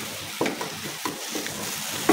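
Chicken pieces fry in a curry paste of chili, and a utensil scrapes and stirs them in bursts over a steady sizzle.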